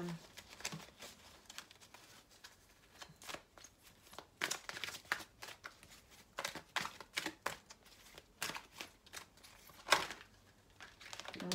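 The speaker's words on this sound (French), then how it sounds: "toutes les cartes se mélangent à l'endroit, à l'envers." Tarot cards shuffled by hand in repeated crisp riffling bursts and soft slides, close and moderately loud, with a quiet voice now and then in the background.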